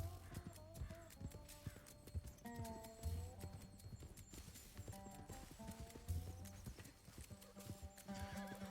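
Horses with riders approaching in the RedM Red Dead Redemption 2 roleplay game, hooves clip-clopping steadily and fairly close, mixed with whinnies and a busy game soundscape.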